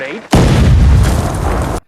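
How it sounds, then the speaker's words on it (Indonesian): A grenade explodes in a film scene: a sudden heavy blast that erupts after a brief voice, then roars as a loud, dense rumble for about a second and a half before cutting off. "Tanah meledak"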